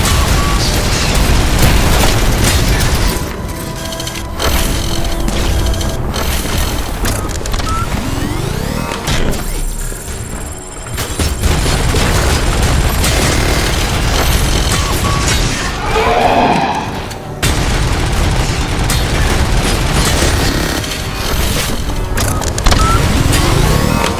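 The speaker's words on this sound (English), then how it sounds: "could you stop firing like mini nukes at me?" Explosions in a Robocop video game, heavy booms and crashes layered with mechanical whirs, loud and nearly continuous with a few brief lulls, with occasional background sound effects.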